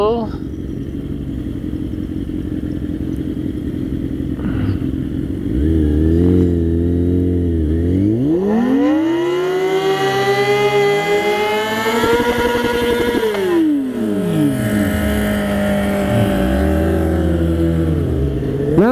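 A motorcycle doing a burnout, its engine revving hard in rising and falling sweeps that climb to a sustained high-pitched whine, then drop and rev again, loud and close throughout.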